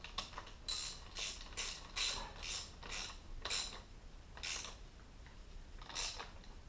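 Spring clips being snugged onto the oil lines of a 2007 Yamaha Wolverine 350 during a rebuild: a series of quiet, rapid ratcheting clicks in short bursts, close by and fairly faint, with no talking.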